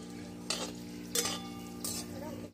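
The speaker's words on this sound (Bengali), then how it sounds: "এবার ওই তেলে আমি 4টে শুকনো লঙ্কা ভেজে নেব" Four dried red chillies fry in hot oil in a pan. Low, steady sizzling runs under three short bursts of metal stirring and clinking, and the sound then cuts off abruptly.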